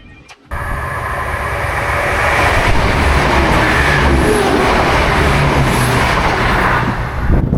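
A train rumbles steadily through Lakenheath station nearby, a loud continuous roar with rattling wheels that holds for several seconds after a brief quiet start.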